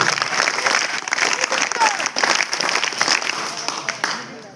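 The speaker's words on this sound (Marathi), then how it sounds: "आजींच्यासाठी एकदा जोरदार टाळ्या वाजवायचे आहेत" Loud, continuous applause from a gathered crowd honouring an elderly grandmother, dense clapping sustained throughout and easing slightly toward the end, with some voices mixed in.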